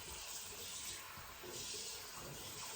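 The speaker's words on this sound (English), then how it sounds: "I'll just add my cold water here" Cold water runs from a tap into a cooking pot being filled to poach chicken, a soft, steady, continuous rush heard faintly and alone.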